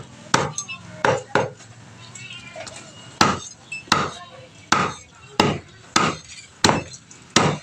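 Salted jambal roti fish chopped into pieces on a board: a series of about a dozen loud, sharp knife strikes in an irregular rhythm, close by, with faint talk in the background.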